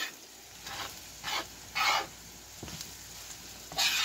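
Vegetables with curry sauté in a pan with a soft, steady sizzle, broken by several short bursts of stirring and scraping close by.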